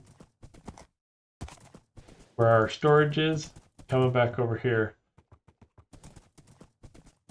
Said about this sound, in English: so I've been riding a horse